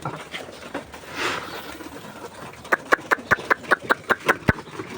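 Pigeons being fed at a home loft coo softly, while a run of about ten sharp, evenly spaced taps or pecks follows in the second half.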